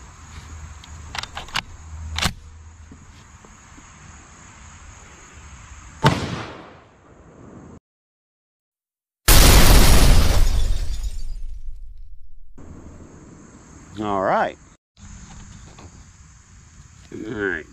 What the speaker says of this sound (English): So let's shoot this thing and see what it does to this ballistics gel.